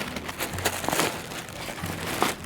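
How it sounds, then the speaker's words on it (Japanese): Zipper on a Mystery Ranch Bridger hiking backpack pulled open after its compression buckles are released, giving short close-up zipping and rustling strokes with fabric crinkle between them. "このジッパーを開閉していくと"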